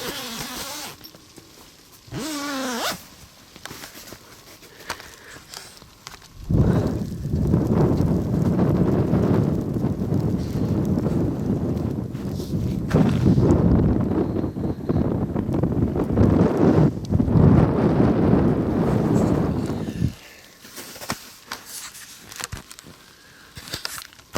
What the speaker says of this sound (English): It's not that cold, but the wind is blowing, it's snowing